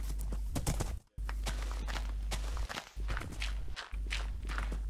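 Horse hooves clip-clop steadily in the Minecraft video game, a run of close, regular hoof steps with brief pauses, heard alone without talk.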